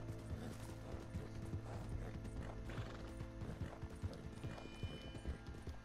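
Rhythmic clip-clop of horse hooves with occasional neighing in Red Dead Redemption 2, inside a tunnel, steady and close against a dense, humming mechanical background.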